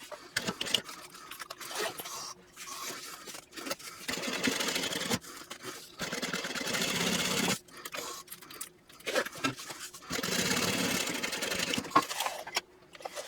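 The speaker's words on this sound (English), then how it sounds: "now I want to top stitch across here using a 1/8 inch seam allowance" A sewing machine runs in close, steady bursts of rapid stitching while top-stitching a backpack panel with a 1/8 inch seam allowance, pausing between runs with small handling clicks and no talk.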